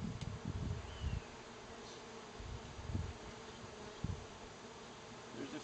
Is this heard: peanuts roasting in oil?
no